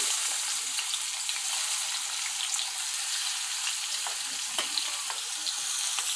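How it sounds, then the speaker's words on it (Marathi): Chopped onion frying in hot oil in a wok for schezwan fried rice, a steady close sizzle with faint crackles running evenly throughout, no talking. "आता तेल तापलं आहे आता त्यात कांदा टाका"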